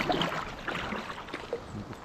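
A kayak glides on water in wild Alaska, with soft paddle splashes and gentle gurgling close by and light wind in the background, no voices.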